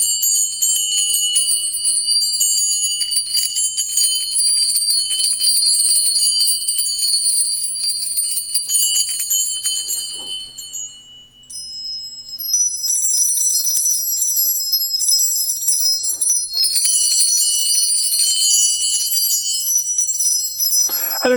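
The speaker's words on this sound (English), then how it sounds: "So you can do something like get some small bells, either buy them on a string or string them up yourself." Small India-made bells ring in long shimmering high tones, struck again and again so the bright metallic tinkle overlaps and sustains, with a brief fade to near quiet midway before they ring up once more.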